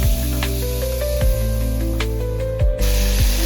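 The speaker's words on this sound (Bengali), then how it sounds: "জলটা দিয়ে দিলাম গরম জল, তাতে তরকারিতে একটু ঝাল হবে।" Hot water poured into a simmering curry in a pan, producing a close, steady hissing sizzle with a humming tone underneath.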